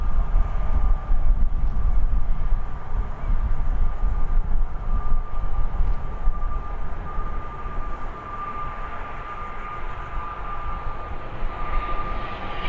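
An ATR turboprop aircraft at Birmingham Airport, a continuous heavy rumbling drone with a steady propeller hum, loud at first and easing slightly as it passes, with no voices.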